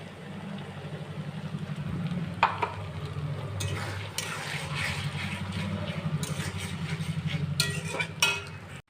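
Spice paste for a country chicken curry, made with cumin, coriander, chili, turmeric, salt and sugar, fries in a pan with onion and garlic. A steady low sizzle runs throughout under repeated scraping stirs of a spoon, with no talking.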